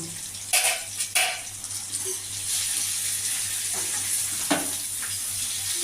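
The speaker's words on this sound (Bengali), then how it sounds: "এবার আমি বেগুনগুলো লালচে করে ভাজব" Eggplant pieces fry in oil in a pan with a soft continuous sizzle, punctuated by a few clinks and scrapes of a utensil against the metal.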